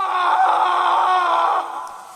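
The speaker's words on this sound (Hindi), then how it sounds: "और फिर अचानक किसी आदमी के चीखने की आवाजें आनी शुरू हो गईं।" A man screams in a drawn-out, strained cry during a horror story, loud and close, holding steady for over a second before trailing off into fading noise.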